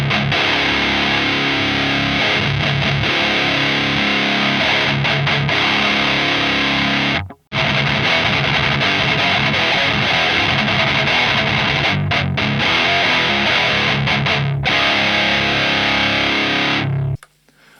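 Electric guitar played through a Lichtlaerm Audio Ritual distortion pedal with a treble boost cutting the lows, giving a loud, dense, tight distorted tone that rings continuously, with a brief break partway and an abrupt stop near the end.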